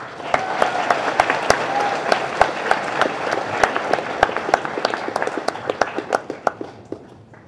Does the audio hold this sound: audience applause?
yes